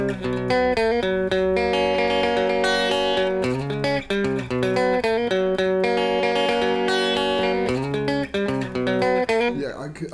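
Electric guitar plays the main riff of a song with sustained, ringing chords and repeated melodic phrases, loud and steady throughout with no talking.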